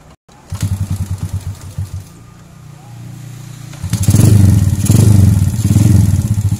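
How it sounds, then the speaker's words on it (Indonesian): A Honda Supra Fit motorcycle engine fires up with a short clattering start, then settles into a steady, close idle whose loudness rises and pulses as the throttle is blipped. "motornya sudah hidup"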